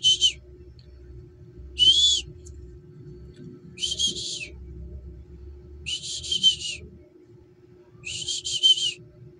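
Five sharp, high whistle blasts at regular intervals of about two seconds, used to call racing pigeons back into their loft, sounding clear and fairly close over a low, steady outdoor background hum.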